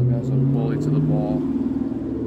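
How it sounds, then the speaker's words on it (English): A car engine drones steadily nearby as the vehicle circles around outside, a low rumbling hum running under a person talking. "This car's going around."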